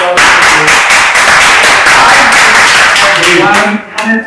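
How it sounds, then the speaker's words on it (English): Webinar audience giving applause, a loud, dense clatter of clapping that runs steadily for about three and a half seconds before breaking off into a couple of scattered final claps. "A big applause for you."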